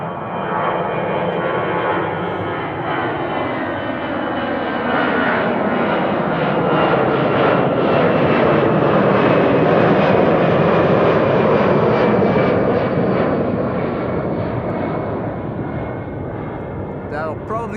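A Turkish Cargo aircraft taxiing toward the runway at Amsterdam Schiphol Airport gives off a loud, continuous engine roar and whine that swells slightly as it passes, with a person talking over it.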